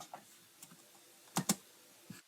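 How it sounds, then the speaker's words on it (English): Typing on a computer keyboard: a few scattered light keystrokes, then a quick pair of louder, sharper clacks and one last tap, close and clear in a quiet room with no talking. "Let's type."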